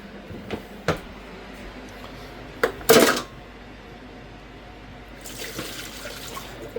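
Water runs into a kitchen sink during washing up after cooking, with a few sharp clinks of dishes and a brief louder splash, then a soft steady flow near the end.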